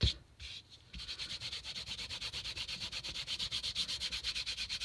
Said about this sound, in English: And if you rub it a little bit, you can remove some of that.